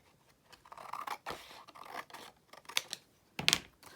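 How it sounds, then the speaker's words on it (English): Scissors cutting through craft card for a flower border, a series of crisp snipping and slicing strokes that grow louder toward the end, close up with no talking. "just taking the scissors and just cutting."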